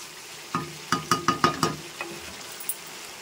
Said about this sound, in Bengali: মাংসটা ভালো করে কষিয়ে নেব